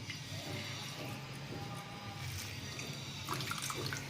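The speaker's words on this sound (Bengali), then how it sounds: "দুধটা ঢেলে নিচ্ছি" Hand-squeezed coconut milk is poured for a prawn malaikari, making a soft, continuous liquid trickle and splash at low volume with slight swells near the end.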